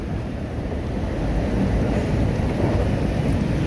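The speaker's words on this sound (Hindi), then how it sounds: "बारिश तेज़ है" Heavy rain pours steadily, a dense, loud roar of broadband hiss with a low rumble, continuous throughout with no voices, at a flooded railway junction.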